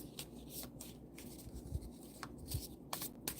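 Playing cards being shuffled by hand during a casual game night, a soft quiet run of riffling and rubbing bursts with a few sharper slaps, close up and low in level.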